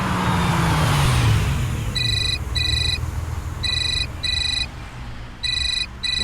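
A mobile phone ringtone chiming in repeated paired bursts of bright electronic tones, fairly clear over a steady traffic and vehicle rumble, with a passing car audible at the start.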